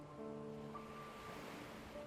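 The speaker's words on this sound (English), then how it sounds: "You notice the sounds of water around you" Soft flowing water, like gentle surf, washes steadily under a faint sustained musical drone. The sound is quiet and calm throughout.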